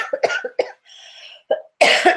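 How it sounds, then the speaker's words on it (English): A person coughs and splutters in a close, loud series of harsh bursts, with a short wheezy breath between coughs. "It's got to be really awful for you to listen to me coughing and spluttering all the time."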